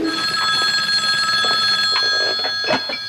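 A telephone rings indoors with a steady electronic bell tone repeating across the moment, fairly loud and close, joined by faint household movement and no talk.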